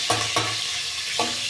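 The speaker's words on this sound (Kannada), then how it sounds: "ಈಗ ಈರುಳ್ಳಿ ಎಲ್ಲ ಫ್ರೈ ಆಗಿದೆ." Onions fry in a pan while a spoon stirs them, producing a soft steady sizzle broken by three quick scraping strokes against the pan.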